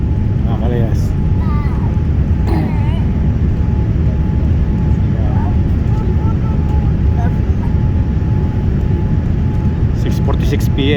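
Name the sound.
airplane landing at Abu Dhabi airport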